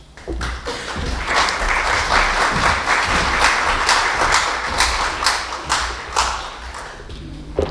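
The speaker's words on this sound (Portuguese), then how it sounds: "Eu desci só para ganhar aplauso de novo." An audience at a lecture on the mission of the physician claps for several seconds, dense and fairly loud, swelling quickly and then tapering off toward the end, with no talking over it.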